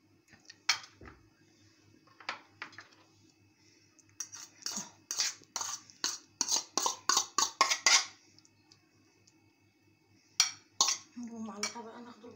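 Baba ghanoush being scraped from a dish onto another plate, a run of quick metal spoon clinks and scrapes against the dishware, fairly faint and close, with a few more taps later on.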